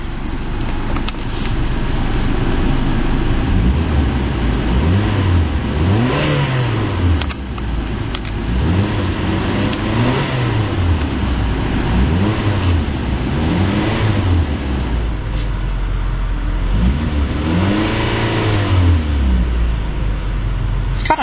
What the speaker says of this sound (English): Let's take a little listen to that 4-cylinder engine and see how it sounds under acceleration.